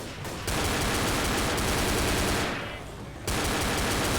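Nonstop automatic gunfire in the video game Left 4 Dead, loud and dense rattling bursts with a short lull partway through, no voices over it.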